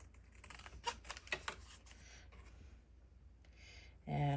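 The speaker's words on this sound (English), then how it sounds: "I'm having to use the scissors for all of this." Scissors snip through paper scraps and packaging junk during journal prep, a run of quick crisp clicks and cuts at close range, followed by a louder rustle at the end; no talking.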